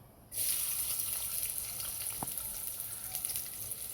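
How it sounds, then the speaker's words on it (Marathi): Chopped onion dropped into a spoonful of hot oil for chicken, giving a steady, close hiss of frying that starts abruptly and holds for several seconds, with a single faint clink partway through and no talking. "हा बघा एक चमचा तेल टाकलेलं आहे ह्याच्यामध्ये आता आपण कांदा टाकून घेऊया"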